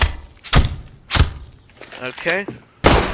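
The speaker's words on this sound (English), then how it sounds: "It's supposed to sound like that, where you hear the little shattering." Glass being knifed in Counter-Strike on the Abbey map gives three sharp, loud impacts with bright shattering crackle, spaced about half a second apart and then after a gap, with a brief spoken word in between.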